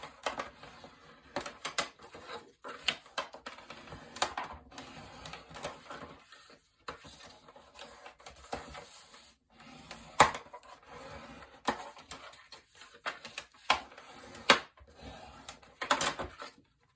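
Paper pocket pages for a handmade mini album folded and creased by hand, with soft rustling, crinkling and sharp little taps and pressing sounds in uneven bursts, close and quiet.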